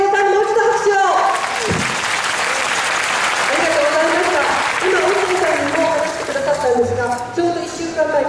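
Loud applause from a crowd at an anti-nuclear, anti-war national rally, sustained clapping with a spoken voice from the stage talking over it.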